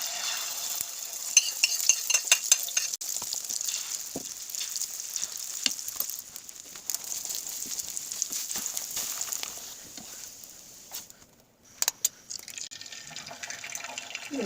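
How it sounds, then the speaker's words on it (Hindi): Eggs frying in a pan for an omelette during Iftar cooking, giving a steady bright sizzle with scattered clinks and scrapes of stirring, close up and with no talking. "एक ऑमलेट बना लिया और बाकी करेंगे फ्राई"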